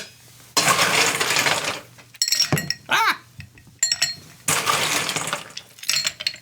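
Ice cubes clatter and clink into a cocktail shaker in several loud bursts separated by short pauses, close by, with some handling noise and brief speech between.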